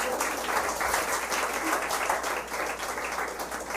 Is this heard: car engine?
no